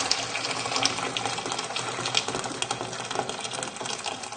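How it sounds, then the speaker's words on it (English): Boiling water from a kettle is poured onto rinsed rice in a pan, giving a steady, close, splashing gush that runs unbroken with no voices. "So all you need to do is pour the boiling water onto the rice."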